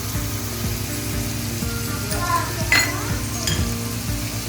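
Tomatoes for chicken gravy sizzle in a pan with coconut milk, a steady close frying hiss joined by a few spatula scrapes and light clinks against the metal, over a low rhythmic background hum.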